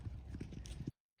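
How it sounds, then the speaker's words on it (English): A horse's hooves clip-clop as a second horse approaches, a brief, quiet run of soft, uneven thuds that stops suddenly into silence. "When this other horse comes up."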